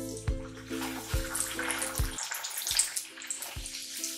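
Bhatura fries in hot oil, a continuous bubbling hiss that stays close and moderately loud, with rhythmic background music playing over it.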